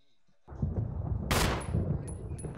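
Gunfire in Resident Evil on Xbox One, a loud sustained burst of shots with a sharp blast partway through, fairly close and dense, with no talking over it.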